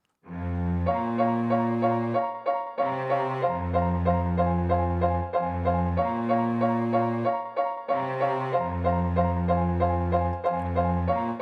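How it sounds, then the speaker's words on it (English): A cello plays the repeating line from a song, opening with a short pickup note before sustained, evenly cycling bowed notes, loud and alone with no talk. "So with the cello, that sounds like this."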